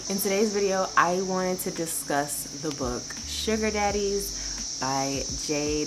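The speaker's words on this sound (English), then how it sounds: "The cicadas are outside." Outdoor summer cicadas keep up a steady, high, continuous buzz throughout, while someone talks close to the microphone over them.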